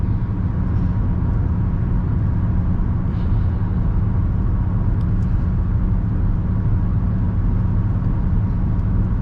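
A car's engine and road noise heard from inside the cabin while driving, a steady low rumble that stays even and continuous throughout with no talking.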